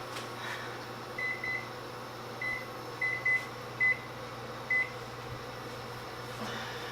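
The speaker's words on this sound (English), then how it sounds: "Let me set my timer." A kitchen timer is set while cheddar broccoli soup cooks on the stove. Several short, soft electronic beeps come at uneven intervals over a steady low room hum.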